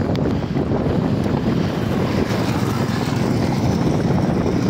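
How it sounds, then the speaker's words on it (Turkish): Strong wind buffets the microphone in a continuous low roar, with gusty rumbling that stays loud for the whole few seconds. "Rüzgar bayağı bir yoğun."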